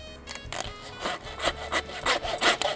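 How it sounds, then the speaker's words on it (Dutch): A hand saw cuts through roe deer bone while the carcass is being butchered, with steady back-and-forth rasping strokes about every half second, close and clear, and no talking. "We nemen de zaag."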